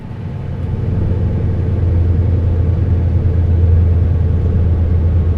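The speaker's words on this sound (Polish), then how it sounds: "ale dudni ta ciężarówka" A Scania S520 truck's engine rumbles in Euro Truck Simulator 2 at highway speed, a loud, constant low drone that swells slightly after the opening second and then holds steady.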